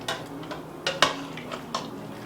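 Broccoli gets stirred into hot broth in an Instant Pot, a few light clinks and scrapes of a utensil against the pot over a quiet background, with no talk.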